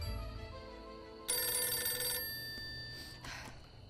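A telephone rings with one bright electronic burst, followed by a fainter second ring over a low background hum, fairly close and with no talking.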